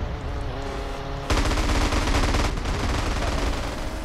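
Rapid bursts of automatic gunfire in GTA San Andreas Multiplayer crackle loudly after a short musical tone, continuing in a dense, sustained rattle.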